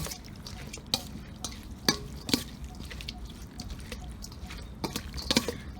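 Fiddlehead fern salad, Isan style, being tossed and mixed by hand in a bowl, giving soft wet stirring and sporadic sharp clicks and taps over a quiet background, with no talk.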